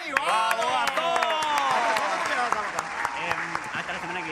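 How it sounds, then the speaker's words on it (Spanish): A live poetry event audience breaks into applause, steady clapping mixed with crowd voices and cheering, close and lively throughout. "fuerte el aplauso para Gastón"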